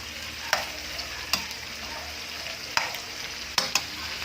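Chopped chayote sautéing in a pan, a steady close sizzle broken by several sharp scraping clicks as a utensil stirs the vegetables.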